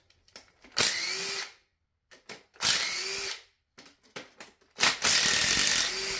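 An impact gun removes engine cylinder head bolts in three loud, close bursts of hammering rattle, each lasting under a second, separated by short pauses.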